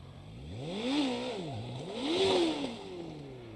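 Motorcycle engine during a rider skills test, revving up twice in smooth rising and falling surges at moderate distance, with no talk.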